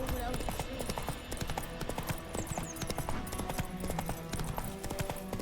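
Horse hooves clip-clop in The Witcher video game, a brisk, steady trot of sharp knocks running throughout, loud and close, layered over game music and ambience.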